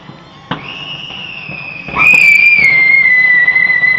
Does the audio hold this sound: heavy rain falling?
no